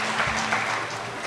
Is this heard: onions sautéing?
no